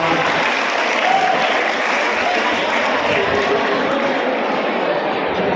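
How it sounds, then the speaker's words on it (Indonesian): An audience at a civic national-awareness event in Bekasi applauds in a dense, steady wash of clapping that holds loud and even throughout, with crowd murmur mixed in. "Oh, buat adik, tepuk tangan."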